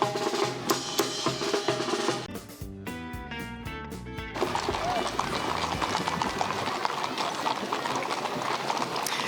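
Dancing horses clip-clop along the street at the Santa Maria Elks Rodeo Parade, a steady patter of hooves that is partly masked by broadcast voices and other parade sound.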